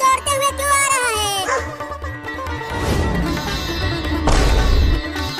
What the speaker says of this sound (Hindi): वो कुत्ता मेरी तरफ दौड़ते हुए क्यों आ रहा है?